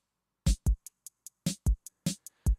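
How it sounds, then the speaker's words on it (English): The Keezy Drummer app plays a sparse electronic beat in which crisp, short closed hi-hat ticks alternate with heavier thumping hits, each sound clipped and dry with silence in between. "I'm going to add in a closed hi-hat."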